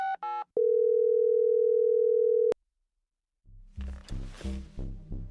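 A telephone sounds a short ringback-like tone pattern, then a steady dial tone holds for about two seconds and cuts off, followed after a pause by a rhythmic series of louder pulsing tones.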